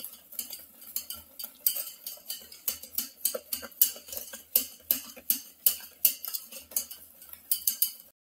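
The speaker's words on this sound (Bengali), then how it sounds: "সাদা অংশ, ডিমের কুসুম আর চিনি গুঁড়ো সুন্দর করে ফাটিয়ে নেওয়া হলো।" Egg whites, yolks and powdered sugar are whisked together in a bowl for a Christmas cake, producing a steady, fast rhythm of clinking strokes against the bowl, close and fairly loud, with no talking.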